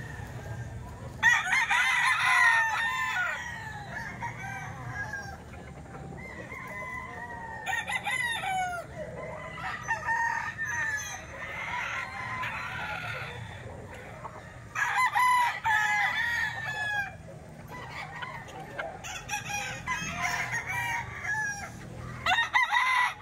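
Roosters and young ball stags crow repeatedly at a busy Saturday poultry market in Baliwag, the calls overlapping near and far over a steady crowd murmur.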